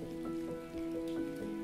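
Rain falls in a steady patter of raindrops on a surface, a soft, continuous spattering with a faint tonal hum underneath and no voices.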